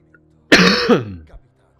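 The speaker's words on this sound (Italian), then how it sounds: "Scusate se ho un po' di tosse." A single harsh, throaty cough up close from a character in the video game Middle-earth: Shadow of Mordor, preceded by a brief silence and trailing off quickly.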